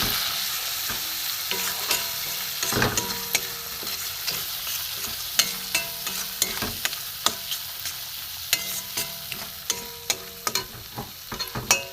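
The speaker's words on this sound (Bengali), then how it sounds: "এবার জিরে, ধনে আর গোলমরিচ একসাথে বাটা। এটা আমি কষে নেব।" A ground paste of cumin, coriander and black pepper fries in a pan, steady sizzling under repeated sharp scrapes and taps of a spoon stirring at a regular pace.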